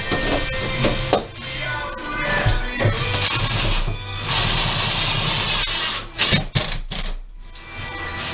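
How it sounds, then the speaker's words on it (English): A cordless screw gun drives screws while a shower faucet is being installed, whirring and rasping steadily for several seconds with brief pauses and stutters near the end. "Let's get us some screws here and the screw gun."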